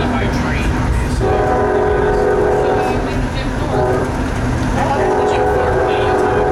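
A Reading Blue Mountain and Northern Railroad train rumbles steadily nearby in Pennsylvania, with sustained horn blasts sounding twice over the heavy, continuous roar of the moving locomotive.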